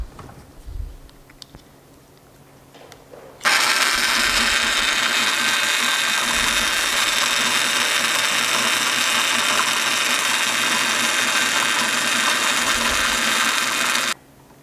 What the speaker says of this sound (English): The basic Oakware motor offers you ways to make ice cream without the arm work necessary